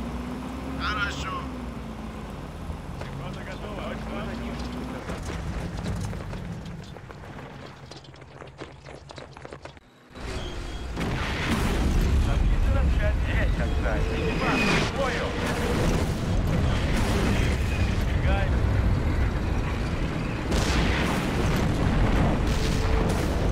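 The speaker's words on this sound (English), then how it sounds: "I can hear the artillery though" Artillery fire in the World War II video game Hidden Stroke II during the Kursk tank battle, deep booms and rumbling blasts that turn louder and denser partway through, under someone talking.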